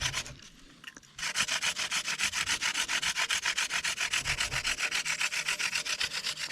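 A wooden hand drill spins fast in a notched fireboard, dirt added for grit, making a loud, steady rhythmic rubbing that pulses with each stroke after a brief quieter start.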